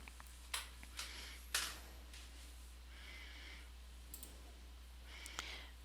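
A few sharp, faint mouse clicks come one at a time, with a couple more later, over a quiet background hum in a still room.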